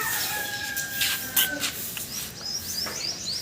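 Chickens just let out of their coop in the morning at a rural family home, giving faint, scattered chirps and calls over steady outdoor background noise.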